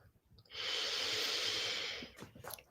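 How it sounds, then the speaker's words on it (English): A single long, slow deep breath drawn in close and soft, rising over a quiet room and fading after about a second and a half, followed by faint small sounds. "take a nice deep breath"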